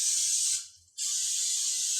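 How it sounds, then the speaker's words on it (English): Cooking spray hisses steadily onto a brownie pan for flourless brownies, close and loud, with a short break midway before a second continuous spray. "I have got to spray my pan"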